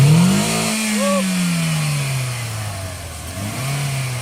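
A cold 2010 Toyota Vios engine revs sharply up from idle, then slowly winds back down before a second smaller blip, loud and close, with no talking.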